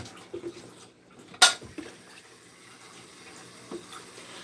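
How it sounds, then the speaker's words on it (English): Tap water running into a coffee pot during a night routine: a steady, faint splashing wash with one sharp clank near the start and a few soft knocks. "So then I fill up the coffee pot with water."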